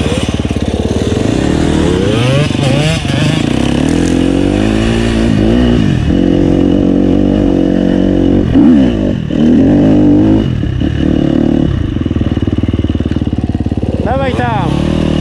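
A WSK motorcycle engine revs hard at full throttle, loud and close, with repeated rises and falls in pitch as the throttle is worked, and voices shouting over it.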